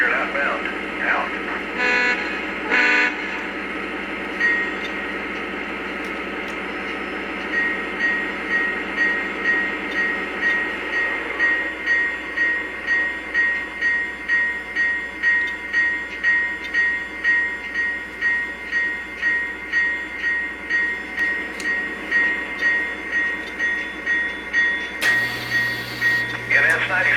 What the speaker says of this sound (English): Locomotive is underway.